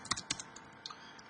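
Quick, light keystrokes on a computer keyboard as a profile name is typed, about eight close clicks in an uneven rhythm over a second, with no talking.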